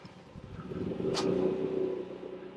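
A 24-foot RV's generator cranks and catches, a low engine rumble building over about a second, with a brief sharp click near the start of the rise, then settling into a steady idle.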